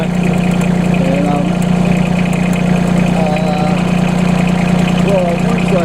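A tractor engine idling with the driver seated on it, a loud, steady low hum with a constant rough vibration throughout, and someone talking faintly under the engine noise.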